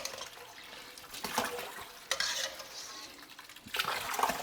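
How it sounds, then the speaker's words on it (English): Tap water running over cooked potatoes in a pot of cold water, a steady splashing stream with a few louder gushes and stirring swirls, no talk. "And leave that water running like that, yeah?"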